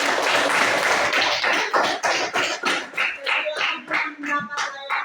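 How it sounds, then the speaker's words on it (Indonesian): Audience applause after a speaker's remark at a presentation, a burst of clapping with sharp irregular hand claps that thins into scattered, distinct claps toward the end, with some voices mixed in. "Bagus sekali, kita beri aplaus."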